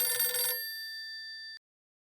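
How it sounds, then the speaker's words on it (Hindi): A telephone rings in a short burst of bright electronic ringing, then one sustained ringing tone holds and cuts off abruptly, loud and close with no talk. "मेरा फोन बज रहा है।"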